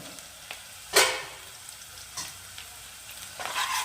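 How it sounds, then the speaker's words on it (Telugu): Onions and green chillies frying in a pan, a quiet steady sizzle punctuated by a few sharp stirring scrapes and clatters, heard alone without talk. "ఈ ఉల్లిగడ్డలైనా పచ్చిమిర్చి బ్రౌన్ కలర్ వచ్చేదాకా వేగనిస్తే ఆ టేస్ట్ సూపర్ ఉంటుంది. కొన్ని నిమిషాలు కొద్దిసేపు వేగనిద్దాం."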